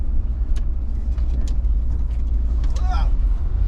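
Land Rover Discovery 2 rolling on flat, squishy tires, a steady low rumble of engine and road noise throughout, with a person speaking over it.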